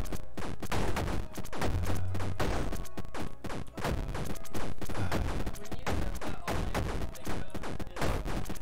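Continuous rapid gunfire in the zombie shooter video game Zombies Ate My Dog, dense overlapping shots and impacts filling the whole stretch at a loud, steady level.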